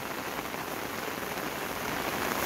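Heavy summer monsoon rain falls on a garden in a thick, unbroken roar of drops, loud and steady with no voices.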